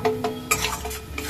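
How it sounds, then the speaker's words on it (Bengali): Spiced shrimp masala with salt, turmeric, cumin and Kashmiri chilli is stirred in a pan, a spoon scraping and clinking against the metal in a few close, irregular strokes. "খুব ভালো করে কষে নিচ্ছি।"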